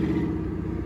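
Jeep CJ5 engine running rough on a poorly tuned Quadrajet carburetor, a loud, close, steady low rumble with faint clatter.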